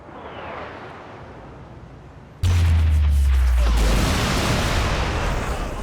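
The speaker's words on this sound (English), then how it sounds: "we could call it an airstrike" An airstrike in Saints Row 3 sets off a sudden massive blast that cuts in and keeps rumbling. Deep booming explosions follow and run on continuously, loud and close.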